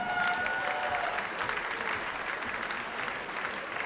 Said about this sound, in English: Let's have a big round of applause for our second ever class of the Collinsville CUSD 10 Hall of Fame